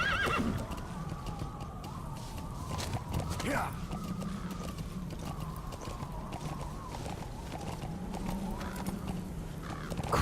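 D-Horse in the video game Metal Gear Solid V, galloping with rapid clip-clopping hooves and a loud neigh partway through, close and continuous while someone talks excitedly over it.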